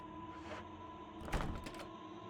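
Locked door in the Resident Evil video game rattling against its latch, a brief burst of clattering knocks in the middle over a steady humming game ambience with music.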